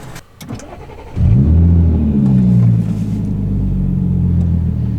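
A supercharged Audi S4 engine cranks briefly and fires up, then settles into a loud, deep, steady idle rumble close to the microphone.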